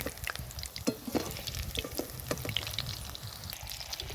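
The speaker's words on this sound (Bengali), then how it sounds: "এবার আমি একটু ভেজে নেব" Busy crackling and spitting of fish fritters frying in hot oil, with scattered pops and occasional utensil taps, close and continuous.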